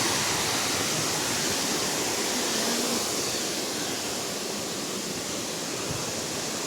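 Mencuna waterfall in Turkey, a tall fall of water dropping from around 950 metres, gives a steady, loud, close rushing roar that stays even and unbroken throughout, with no voices.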